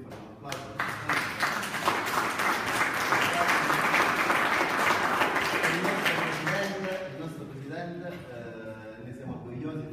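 At a press conference presenting Popolo della Famiglia candidates in Calabria, the room breaks into loud, full applause that builds quickly, holds for several seconds, then fades as someone starts talking.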